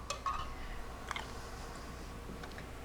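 Light clinks and ticks of muffin cups being set onto a small air fryer rack, a few soft scattered taps close by over a low steady hum, no talking.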